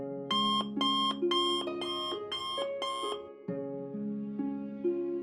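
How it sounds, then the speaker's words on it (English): An alarm clock rings in a bedroom in the morning: a run of rapid, regular electronic beep bursts, then a steadier chiming tone pattern, clear and close with no voices. "Victoria woke up to the sound of her alarm clock."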